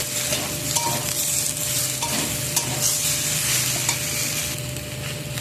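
Tomato and ground white mustard paste is stirred in a sizzling frying pan, a steady loud fry with scraping strokes throughout and no talk.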